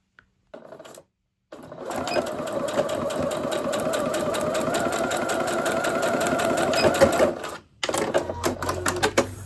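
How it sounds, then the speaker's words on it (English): A sewing machine stitches a line across foundation paper piecing, starting with a brief burst, then running in one steady, close whirring stretch of several seconds before stopping, followed by a few faint handling sounds. "And I'm going to now sew from this corner to this corner"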